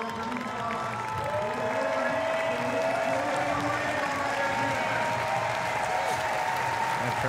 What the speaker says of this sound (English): The crowd celebrate Chloe one more time as she returns.